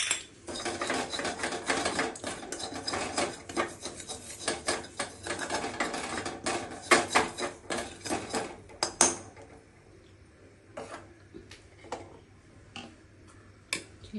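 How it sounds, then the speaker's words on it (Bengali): A mixer grinder grinds fried pointed gourd and prawns with a little oil into a paste: a loud, dense, gritty whir for about nine seconds, then a few scattered knocks and clicks in near silence. "এখন এটা মিক্সিতে মেরে নেব"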